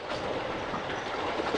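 A railway train running on smooth rail gives a steady, dense rolling rumble with a faint rhythmic clatter, continuous and fairly close throughout.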